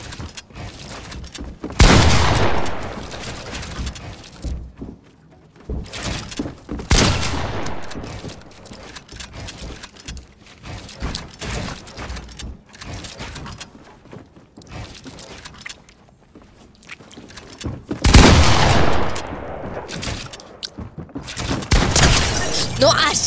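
Video game gunfire comes in several loud, sharp bursts of shots separated by quieter stretches, with people talking over the action.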